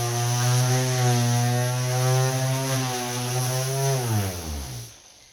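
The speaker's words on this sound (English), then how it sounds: "Here I'm letting the sander do the work." An orbital sander runs under light pressure, producing a steady, droning hum with clear harmonic tones that holds evenly, then slows and drops in pitch toward the end as it winds down.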